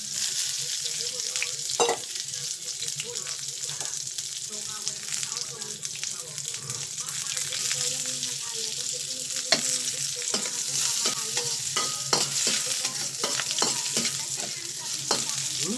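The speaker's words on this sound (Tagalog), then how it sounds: "Bawang sibuyas lang muna. Sunugin natin." Garlic and onion sautéing in a pan for ginisang patola, a continuous close sizzle with frequent scraping stirs and utensil clicks throughout, no talking.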